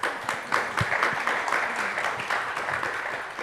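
An audience at a conference applauds after a talk, a dense sustained round of clapping from many hands, loud and fairly close, with a few sharper individual claps standing out and no speech over it.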